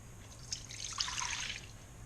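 Warm milk poured into a large bowl in a home kitchen, a soft liquid trickle lasting about a second and a half, close and fairly quiet over a low steady background hum.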